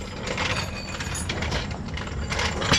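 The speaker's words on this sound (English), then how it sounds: "Hits the ratchet." A ratchet wrench clicking while CalTracs traction bars are fitted under a 1970 Ford Maverick, a busy steady mechanical rattle of clicks and metal knocks, close up, with no speech.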